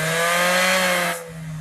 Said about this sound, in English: We got this orbital sander.